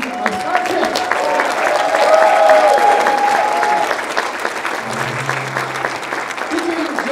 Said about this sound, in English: please join me in giving some applause for the cast and crew of Star Trek